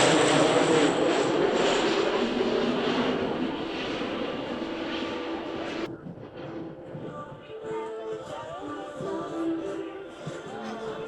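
A Kentucky Air National Guard C-130J Hercules makes a flying pass over Lake Cumberland with its rear cargo ramp open, a loud broad roar of turboprop engines that drops away sharply midway and leaves a fainter drone under background sounds.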